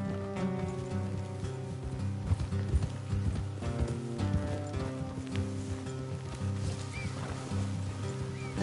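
Horse hooves pound in a steady galloping rhythm, mid-distance, under a continuous musical score, in the video game Red Dead Redemption 2.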